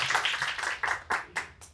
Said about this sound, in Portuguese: vamos uma salva de palmas aqui para a Ana